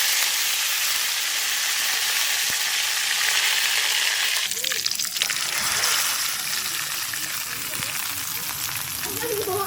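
Mustard seeds and curry leaves hitting hot oil for village-style rava kichdi, a loud, dense sizzle that holds steady throughout, with a brief sharper crackle midway.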